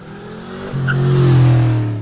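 Custom V8 Pontiac Fiero on the road, its crate engine rising from a steady drone into a strong, swelling rev heard from inside the car, the note building and holding loud near the end.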